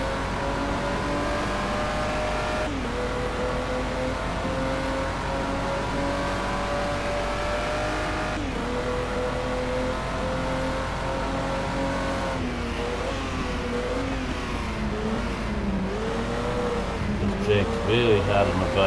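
An old Jaguar racing car in the GT Legends racing game roars continuously near, its engine rising and falling through gear changes, while someone talks over it.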